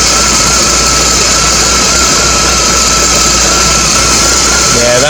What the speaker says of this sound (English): What I'll do is just give it a bit of a rev.